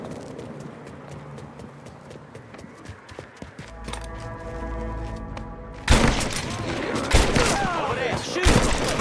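Gunfire in the Mafia 3 video game: scattered shots at first, then a heavy burst of loud firing erupting midway and continuing, with voices and hoofbeat-like clatter mixed in.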